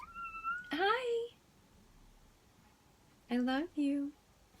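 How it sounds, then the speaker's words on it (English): A pet cat meows several times, one long meow at the start and then two shorter ones near the end, close and clear against a quiet room. "The meowing is for anybody new, it is my cat."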